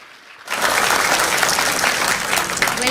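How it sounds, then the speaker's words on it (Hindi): Loud applause from the audience at a preschool's ninth annual day bursts in after a short quiet start and stays dense and steady. "एक बार जोरदार तालियां, कम ऑन"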